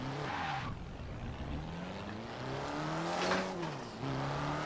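A modified turbocharged Opel Astra in Forza Horizon 4 accelerates hard, its engine note rising through gear changes, with tire squeal and a whistling turbo over steady road noise.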